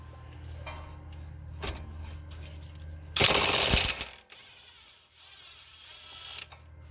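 An impact gun hammers out a 17 mm bolt on an Acura TSX hub assembly in one loud rattling burst of about a second, set between quieter garage clicks and handling noise.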